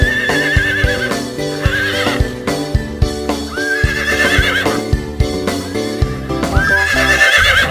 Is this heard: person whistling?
no